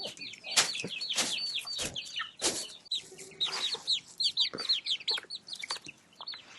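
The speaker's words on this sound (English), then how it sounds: "Time to feed the chickens." Chickens clucking at feeding time in Indonesia: a close, busy flock of rapid overlapping clucks and squawks with sharp bursts, no talking.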